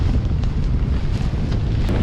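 Strong wind buffets the microphone on the Portuguese coast, a loud continuous roar with gusty low rumble and no speech.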